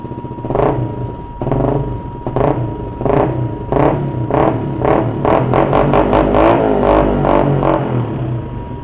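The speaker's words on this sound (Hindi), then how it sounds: "कोल्ड स्टार्ट सुन लूँगा इस बाइक का" A Kawasaki ZX-10R sport motorcycle is started cold and revved, with a rumbling idle broken by repeated sharp throttle blips that come faster toward the end, close and loud.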